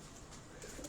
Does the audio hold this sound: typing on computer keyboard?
no